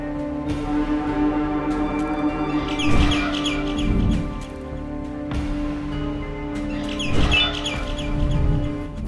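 A bird in the video game Garden of Banban 6 gives two bursts of squawking, chirping calls a few seconds apart, loud and close over a steady humming, droning ambience.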